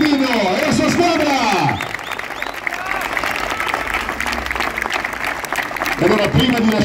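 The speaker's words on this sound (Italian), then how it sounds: "io vorrei un grandioso applauso allo staff tecnico del Genoa, Mr. Girardino e la sua squadra!" A crowd of football supporters gives loud applause for the Genoa coaching staff, with dense clapping mixed with cheering and shouted voices, swelling at the start and again near the end.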